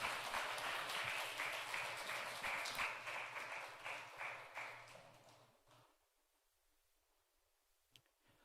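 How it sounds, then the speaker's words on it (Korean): Church congregation applause, fairly quiet and steady, fading out to near silence after about five seconds, followed by a single faint click. "다시 한번 크게 박수로 격려하겠습니다."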